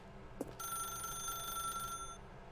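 A telephone rings in the video game The Stanley Parable, one continuous electronic bell trill after a short click, quiet and lasting under two seconds before stopping.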